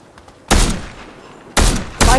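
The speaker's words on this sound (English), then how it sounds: "who's shooting? You shooting at someone?" Gunfire in a video game: three loud, close bursts of shooting, the first lasting about a second, then a second burst and a short third one after a pause, over a quiet background.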